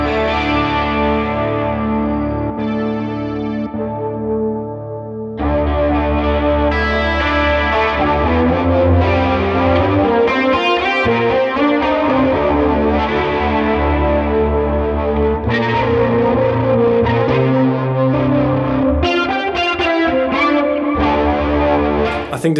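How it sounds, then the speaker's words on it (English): Electric guitar run through a Boss SY-1 synthesizer pedal, producing loud, sustained ambient synth-like tones with shimmering echoes and layered chords that swell and shift continuously, with no talking. "So it really adds some otherworldly sounds to your guitar."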